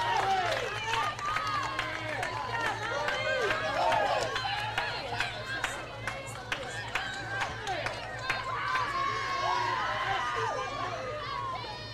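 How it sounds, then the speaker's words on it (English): Softball crowd and dugout cheering and shouting at a college game in Waleska, Georgia, a steady, excited roar of voices with claps and whoops running throughout. "The dugout and the crowd all fired up about that"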